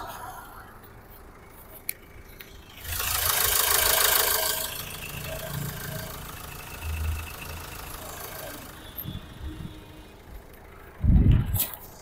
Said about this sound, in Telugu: మీకు ఇంజన్ బీటింగ్ కూడా నేను అనేది చూపిస్తాను